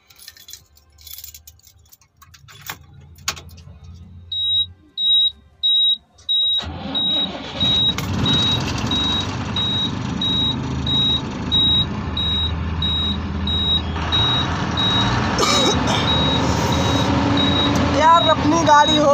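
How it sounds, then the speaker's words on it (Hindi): An Indian truck's engine cranks and catches, then settles into a loud, steady diesel idle with a repeating electronic beep above it. "अपनी गाड़ी हो गई है स्टार्ट"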